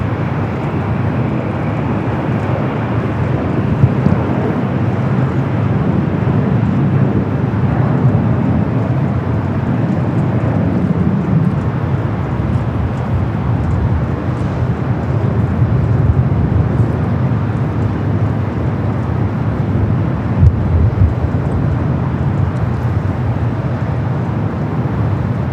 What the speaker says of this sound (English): Lufthansa Flight 456, the Queen coming in from Frankfurt,